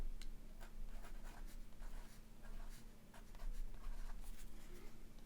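An ink pen scratches across paper in a quiet room, making soft, close, irregular strokes with small ticking pauses over a faint steady hum.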